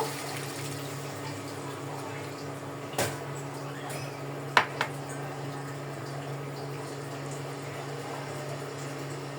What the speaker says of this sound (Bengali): কষানো হয়ে গেছে, এখন পানি দিয়ে দিব।